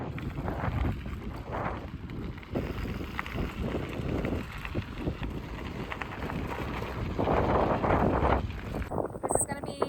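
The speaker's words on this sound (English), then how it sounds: "I'm not sure how much you're going to be able to hear me with the wind" Gusty wind buffets the microphone while riding a bike outdoors, a loud, uneven low rumble that swells and fades in bursts over the whole stretch, with no clear talking.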